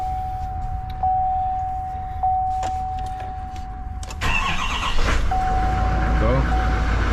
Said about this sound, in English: Just gotta start my truck up.